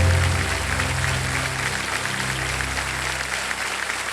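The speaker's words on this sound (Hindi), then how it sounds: "ताली बज जाए सबके लिए" Studio audience at the Kaun Banega Crorepati quiz show clapping together in steady, loud applause, with a low hum of studio sound underneath.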